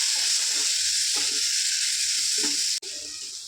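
Potato and tomato pieces fry in hot oil for aloo biryani in a pressure cooker pot, a loud, constant sizzling hiss with a few soft stirring scrapes and one brief dropout near the end.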